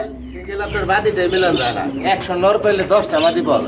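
Fancy pigeons cooing at a market stall, with close, repeated throaty coos and soft chirps mixed together, while someone talks continuously over them.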